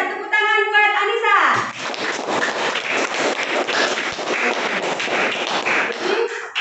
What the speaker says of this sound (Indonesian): beri juga tepuk tangan buat Anissa